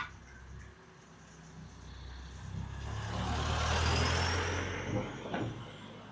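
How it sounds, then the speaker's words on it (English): A car comes down a hill in a quiet spot above Port de Soller, Mallorca, its engine and tyre rumble swelling gradually from a distance to a moderate peak over steady wind noise. "we've now got a car coming down the hill."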